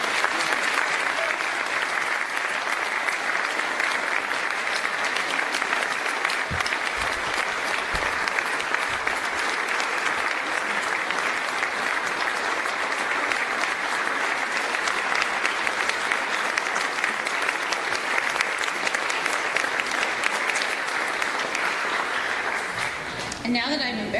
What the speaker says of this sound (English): join me in a very thunderous thank you applause